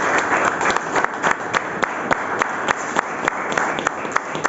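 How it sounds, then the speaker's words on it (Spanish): Scattered congregation applause in a church, a modest crowd of distinct claps with sharp individual hits over a soft background, fairly close and brief. "Dale un aplauso al Señor en el nombre de Jesús."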